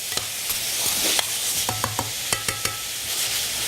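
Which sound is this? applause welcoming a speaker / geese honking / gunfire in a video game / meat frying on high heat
meat frying on high heat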